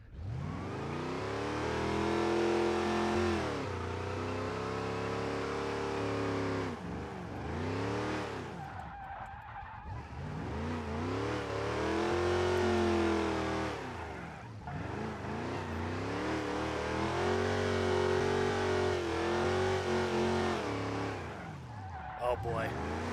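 A Dodge Charger with an open differential revs hard in the BeamNG driving game, its engine rising and falling in long sweeps with tire squeal and skidding, loud and continuous while someone talks over it.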